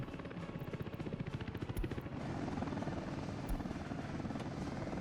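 An Mi-8 helicopter in the Soviet-era city-building game Workers & Resources: Soviet Republic gives a steady, loud rotor thrum with fast rhythmic blade chop over a dense engine whine, running continuously throughout.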